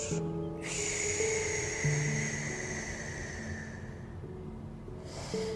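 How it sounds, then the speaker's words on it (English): A long, slow breath out hisses softly and steadily, fading toward the end before a new breath begins, with a faint tone underneath. "And breathing out."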